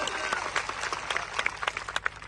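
A crowd claps through a political rally in Gujarat, a dense patter of hand claps with a few sharper peaks, fairly close and steady, with faint voices mixed in.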